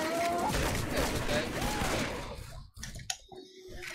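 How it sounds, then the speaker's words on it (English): Dual-wielded pistols fired in Left 4 Dead 2, a flurry of quick shots amid dense game noise, then a few sharper isolated cracks near the end, with voices talking over it. "Are you dual-wielding pistols, are you? It's bad that I keep shooting you by accident."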